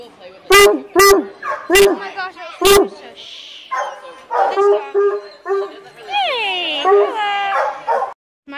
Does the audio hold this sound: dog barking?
yes